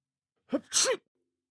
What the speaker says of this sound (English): he sneezed, as you perceive